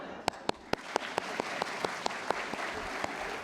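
Audience at a centenary congress clapping in an even, sparse rhythm, about a dozen crisp claps over a low murmur of the hall.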